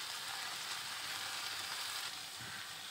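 A white sauce roux of flour and butter roasting in a pan over medium-low flame, giving a steady, even hiss of sizzling that stays soft and constant throughout.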